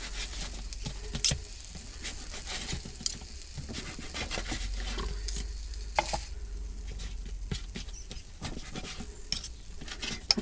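Food sizzling on a George Foreman electric grill inside a motorhome, a steady close hiss with scattered pops and light clinks of utensils, no talking.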